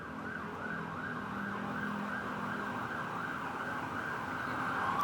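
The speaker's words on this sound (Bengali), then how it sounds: "আপনি অনেক সাইরেনের শব্দ পাবেন" Emergency vehicle sirens in a city, a single wailing siren rising and falling in a steady repeating cycle over a constant traffic rumble, moderately distant and continuous, with no talking.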